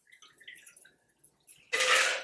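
A handshaken daiquiri is poured from the shaker into a second cocktail glass. After a quiet stretch there is a short, close, splashy burst of liquid pouring at the end.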